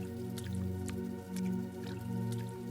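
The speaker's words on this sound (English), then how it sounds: "splashing through puddles in your rain boots, making your way through the rain" Rain boots squish through shallow rain puddles, a slow rhythmic slosh over a steady low hum, with scattered drips and splashes.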